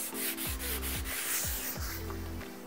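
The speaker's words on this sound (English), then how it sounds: "I actually am gonna change to a sanding sponge." Close, rhythmic rubbing strokes of a sanding sponge across a painted wooden kitchen cabinet, several back-and-forth passes with a soft scratchy texture.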